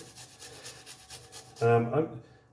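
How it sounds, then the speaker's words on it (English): A couple of garlic cloves rasped on a grater, quick rhythmic scraping strokes close by, briefly interrupted by a short burst of speech near the end. "I'm adding grating a couple of cloves of garlic in."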